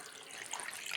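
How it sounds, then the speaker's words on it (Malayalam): Plain water is poured into carrot and mango juice being blended at home. A brief, steady splashing gush of liquid runs throughout, alone and fairly close. "വെള്ളം ഒഴിക്കുന്നു"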